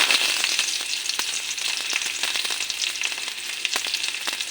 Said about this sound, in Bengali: আমার তেজপাতা শুকনো লঙ্কাটা ভাজা ভাজা হয়ে গেছে